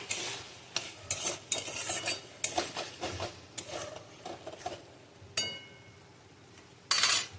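A mustard-poppy and chili paste fries in a pan, with sharp repeated scraping stir strokes, a low sizzle and occasional metallic clinks, close and clear throughout.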